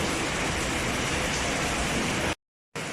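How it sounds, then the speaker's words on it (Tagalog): Heavy rain pours steadily in a dense, loud hiss, cut off by a brief moment of silence before resuming. "Ang lakas ng ulan."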